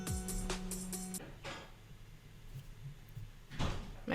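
Several dull thuds of household doors closing as a roommate leaves for work, two or three clustered at the start and another soft knock near the end, heard faint and at a distance in a quiet room.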